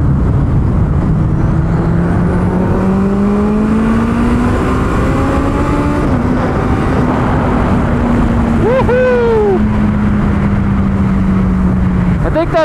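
A 300 hp turbocharged Hayabusa motorcycle being ridden, its engine note climbing steadily then easing off, with wind buffeting and brief high whines from shifting and spooling near the end.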